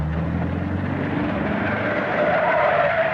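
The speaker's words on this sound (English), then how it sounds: "Don't ever jam your brakes on like that." A 1940s car with its brakes jammed on, tires skidding in one long, loud continuous screech over engine rumble for the whole stretch, without pause.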